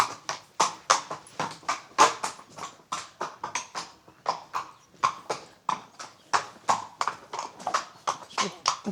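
Horse hooves clip-clopping at a steady walking rhythm on a hard surface in a Camargue village, close and clear, with many evenly spaced strikes across the clip.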